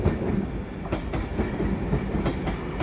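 Avanti West Coast passenger train at Crewe station on the West Coast Main Line, Edinburgh to London Euston service, rolling through with a steady rumble and rhythmic clicking of wheels over rail joints.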